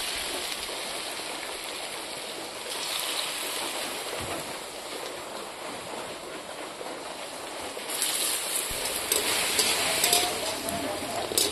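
Battered taro flowers sizzle in hot oil in a pan, a constant close hiss and crackle that swells a bit louder toward the end.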